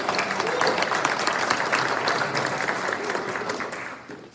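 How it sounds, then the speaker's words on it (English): Audience applause for sponsors at a chamber of commerce State of McKinleyville event, a full, steady round of many hands clapping, loud and close, fading gradually over about four seconds. "if we can give them a little round of applause"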